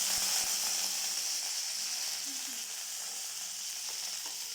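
Mustard seeds and urad dal frying in hot oil make a faint, steady sizzle with a few soft crackles and pops, and no talk.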